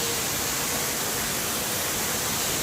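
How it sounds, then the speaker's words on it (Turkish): Upper Düden Waterfall in Antalya, Turkey, roars as a steady, even rush of falling water. The broad hiss is constant and quite soft, with no voices over it. "Yukarı Düden Şelalesi, Antalya."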